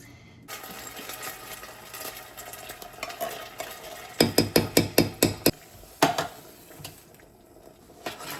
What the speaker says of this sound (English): Okay, beans are cooking.